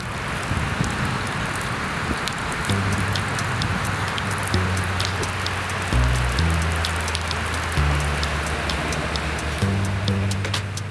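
Steady rain patters and hisses on surfaces around Bonners Ferry during a Pacific Northwest Trail thru-hike, continuous and fairly loud, with a low droning tone that comes and goes beneath it.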